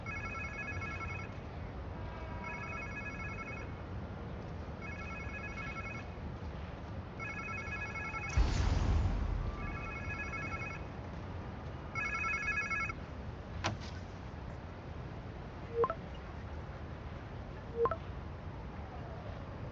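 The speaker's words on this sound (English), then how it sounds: "Sounds like somebody's phone" A phone rings in the Spider-Man video game, several evenly spaced electronic trills repeating over a low steady hum, with a brief rushing thud midway and a few faint ticks afterward.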